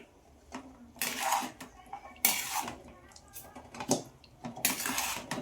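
A metal spoon scrapes and clanks against a pan while hot cooked rice is mixed for puliyogare, irregular bursts of clatter and scraping at close range, with quiet pauses between strokes.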